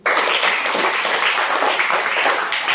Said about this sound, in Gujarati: ચલો એક વાર તાળી પાડો